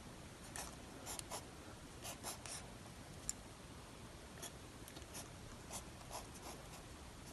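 A pen scratches across paper while drawing a chemistry structure, producing quiet, irregular strokes and small taps in short bursts over a faint room hiss.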